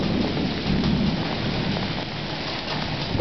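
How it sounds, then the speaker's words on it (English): Early morning hail storm hammering down in a dense, continuous roar of hard pellets striking surfaces close by, steady and loud throughout with no voices. "Yep, that's hail."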